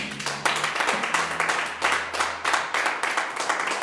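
A church congregation claps together at a worship service, steady broadband clapping with rhythmic pulses about every half second, a few faint low voices and a hum underneath.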